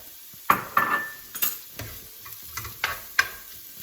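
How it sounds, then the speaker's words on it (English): Four medium carrots and three small celery stalks dropped into a soup pot for ham and white bean soup, giving a series of irregular clattering knocks and light thuds against the pot with faint kitchen noise between them. "About 3 small little celery stalks. I'm gonna go ahead and add that."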